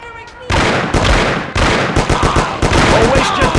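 A gunfire shootout in the Mafia video game: loud, close volleys of rapid shots and bursts sounding in several waves, with voices calling out among them.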